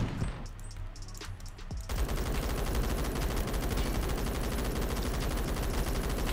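An MG36 machine gun in the Phantom Forces shooter opens up after a couple of quieter isolated shots, then fires in a loud, sustained, rapid automatic burst that runs to the end.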